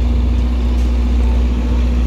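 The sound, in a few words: engine running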